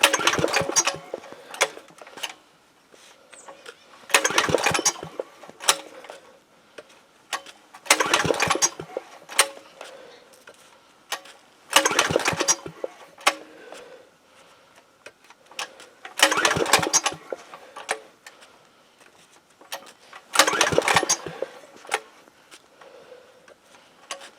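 A 168F single-cylinder diesel engine cranks on a cold start in six separate bursts, each a few seconds long with a rapid mechanical chug, separated by brief pauses, loud and close with no voices.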